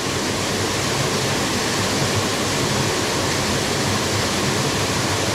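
Buderim Falls pouring steadily, a dense, even roar of falling water close by and constant throughout, with no voices.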